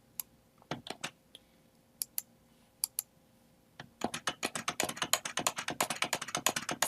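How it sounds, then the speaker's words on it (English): Scattered keystrokes on a computer keyboard give way to rapid, continuous typing, close and fairly quiet, with no voices. "So I'll do some typing in here and copy it."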